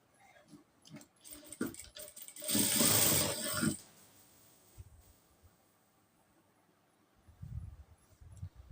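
A sewing machine stitching a nighty runs in short clicking bursts, then a loud steady whirring run of about a second, followed by quieter mechanical ticks and a brief final burst, close and with no talking.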